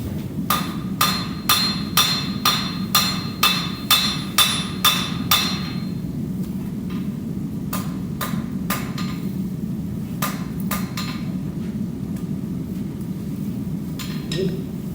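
Hammer blows forging a hot cut chisel from Atlantic-33 steel at a blacksmith's anvil: a fast even run of about a dozen loud ringing strikes, then scattered slower blows and a pause before a final few.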